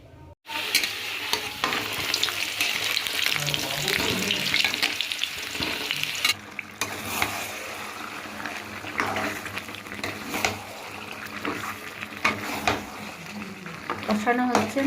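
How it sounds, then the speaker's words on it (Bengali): Mutton coated in spices sautéing in a pot over a village cooking fire, a steady loud sizzle with frequent spoon stirs and scrapes against the metal throughout. "কষানো হচ্ছে, মাংসটা বসিয়ে দিয়েছি, মশলা টশলা দিয়ে একবারে মেখে বসিয়ে দিয়েছি।"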